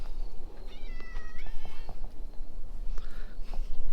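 A cat meows a few times close by, a clear rising-and-falling call near the start followed by a shorter one later, over a faint background hum in a yard.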